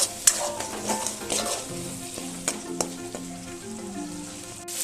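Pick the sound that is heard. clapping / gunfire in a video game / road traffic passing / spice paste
spice paste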